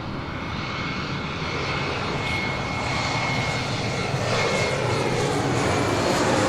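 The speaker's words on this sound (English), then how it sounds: "Cessna Citation Latitude is coming in from Livermore." A Cessna Citation Latitude business jet arriving at LAX after a flight from Livermore, its engines making a steady, loud broadband roar that holds and swells slightly toward the end, with no voices over it.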